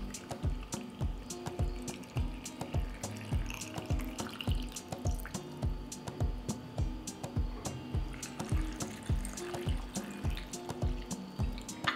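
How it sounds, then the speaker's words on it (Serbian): Water poured into glass jars filled with grapes and sugar for preserving, a close, rhythmic splashing and dripping that repeats steadily throughout at a low level. "Pa ću tegle napuniti sa vodom."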